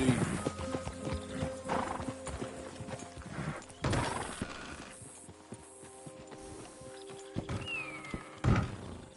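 Horse hooves clip-clopping in Red Dead Redemption 2, a steady walking rhythm of close, clear hoof beats with a horse whinnying and snorting, plus game ambience and brief spoken lines.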